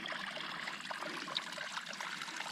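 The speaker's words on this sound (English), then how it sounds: "just water running out of the ground right here" Water trickling and seeping out of saturated boggy ground in a Scottish forest park, a faint, continuous close-up dribble with no voices.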